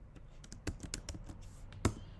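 Rapid clicky keystrokes on a computer keyboard while coding in Python, irregular taps with a few louder strikes, close and alone without talk.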